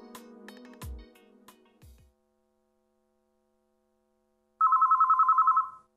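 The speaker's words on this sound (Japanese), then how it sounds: "電話？" An electronic telephone bell in a Japanese visual novel game trills in one rapid, steady ringing burst, loud and alone, after earlier musical tones fade into silence.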